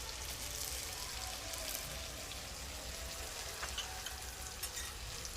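Chicken sautés in a pan with turmeric and salt, giving a soft, continuous crackling sizzle like light rain, with faint scraping from stirring, fairly quiet and steady.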